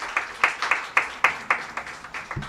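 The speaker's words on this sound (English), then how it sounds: "I want you to give the church a round of applause." A small church gathering gives a round of applause: a few hands clap in a loose, uneven rhythm, close and moderately loud, with no talking.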